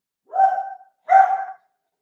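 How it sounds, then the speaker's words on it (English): Neighborhood dogs bark twice, close and clear, with two distinct barks separated by a short pause against silence. "all the dogs in my neighborhood would start to bark"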